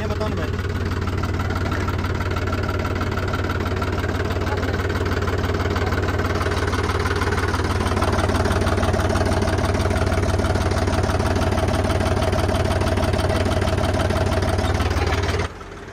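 A Mahindra Yuvo tractor idles nearby, a loud, unbroken low throbbing drone with a faint high whine, steady throughout before cutting down right at the end.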